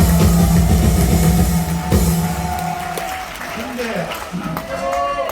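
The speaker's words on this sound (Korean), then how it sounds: "할렐루야 박수하겠습니다." A congregation gives a hallelujah round of applause at a Jinju Free Village rally, sustained clapping mixed with tonal music and voices that eases slightly toward the end.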